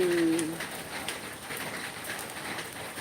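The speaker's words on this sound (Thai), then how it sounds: "ให้ชมบรรยากาศ ฝนตกรินริน" Gentle drizzling rain pattering softly outdoors beside a large Indian rubber tree, a faint steady hiss with a short bird coo near the start.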